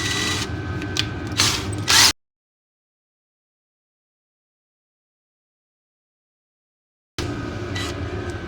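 A drill bores a hole through a race-car throttle linkage bracket, close to the bracket's edge. It comes as near, harsh bursts at the start, then total silence for several seconds, then resumes.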